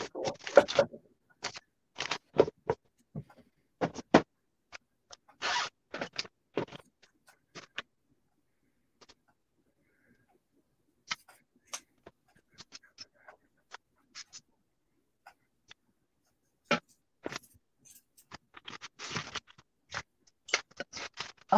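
Pinking shears snip through the fabric of a sewn pocket in short crisp bursts of clicks, pausing in the middle and then resuming, close and quiet with no talk.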